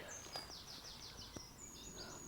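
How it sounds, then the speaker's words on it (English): Birds singing outdoors in a yoga setting, a string of faint high chirps and trills repeating across the whole stretch, distant and soft over a quiet background. "So you hear the birds singing."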